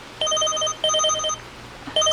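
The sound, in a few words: phone ringing for an incoming money transfer text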